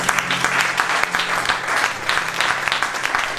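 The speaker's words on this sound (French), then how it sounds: "Est-ce que tu peux acclamer pour Dieu?" Congregation at a French-language church service clapping for God, a dense, steady burst of applause from many hands filling the room.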